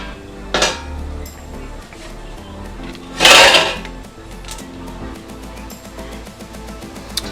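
Quart-size glass jars are lifted out of a canner with jar lifters while canning pasta sauce. A sharp clink comes early, a louder glassy clank follows midway, then softer rattles, close by.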